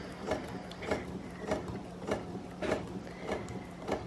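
A sewing machine stitching a line through fabric, running in a steady mechanical chatter with evenly spaced rhythmic pulses about twice a second, close and moderately loud with no talking.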